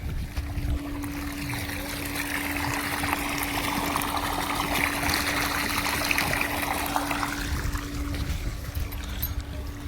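Steady rushing and splashing of borewell water overflowing the edge of a tank, continuous and fairly loud throughout, with a low constant hum underneath.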